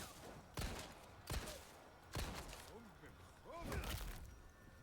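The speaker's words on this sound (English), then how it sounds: "maybe I need to be shooting them in the head." Gunfire in the Resident Evil 4 Remake video game: four sharp shots spaced about a second apart, mixed with game creature sounds and background ambience.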